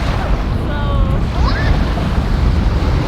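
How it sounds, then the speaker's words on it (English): Strong wind buffets the microphone at sea off Castaway Cay, with a steady roar of waves and rushing air, loud and unbroken. "This is just so windy."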